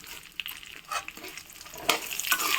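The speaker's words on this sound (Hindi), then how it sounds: "इसको भी अच्छी तरह से बादाम के साथ भून लेते हैं" Pistachios and almonds being roasted in a pan give a soft, close scrape of stirring with a light crackling sizzle, quiet and intermittent over a short stretch.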